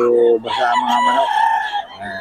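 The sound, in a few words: roosters crowing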